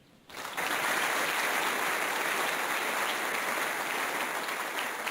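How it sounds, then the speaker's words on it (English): Audience applause at a school award ceremony honouring junior art and mathematics trophy winners, starting abruptly after a brief quiet moment and holding as a dense, steady, loud roar of many hands for about five seconds. "we can give a round of applause in any case"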